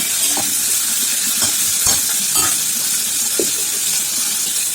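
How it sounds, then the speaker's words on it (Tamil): Tomatoes and a little coriander sauté in a hot pan for a crab fry, with a continuous loud sizzle and hiss broken by a few scraping stirs. "லேசாக ஒரு வதம் வதங்கட்டும்"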